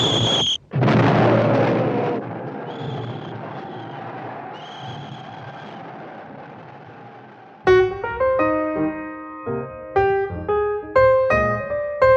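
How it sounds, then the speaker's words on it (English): A 75 mm field gun fires in a battlefield scene from the film Paths of Glory: a loud boom with a long rumbling decay, then orchestral music enters with sustained tonal notes. "Order the 75s to commence firing on our own positions."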